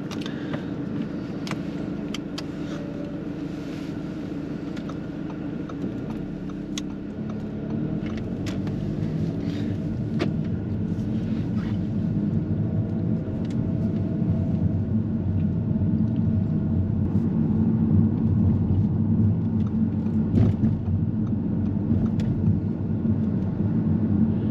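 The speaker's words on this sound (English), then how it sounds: "Reem, when you're ready, drive on." A learner driver's car pulls away on a mock driving test, with a steady low engine rumble and road noise that builds gradually as the car picks up speed, heard up close from inside the cabin.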